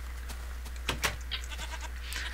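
A video game goat bleats in short bursts over a steady electrical hum, with several thin cries spread across a couple of seconds and no talking.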